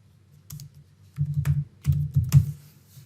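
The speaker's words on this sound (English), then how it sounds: "So here I can type it electric project." Computer keyboard typing a file name in a quiet room: a few close, crisp key clicks, then two quick bursts of several keystrokes each, with short pauses between.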